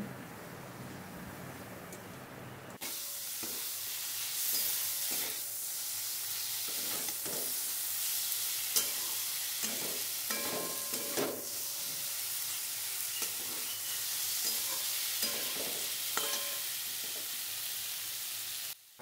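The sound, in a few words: boiled taro stolons stirred and fried with spices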